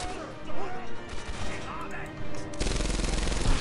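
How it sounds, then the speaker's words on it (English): Rifle fire in Medal of Honor Airborne, a few sharp shots over a busy game soundscape, then a dense rattling burst of rapid fire near the end; someone talks over part of it. "Shoot him in the stomach"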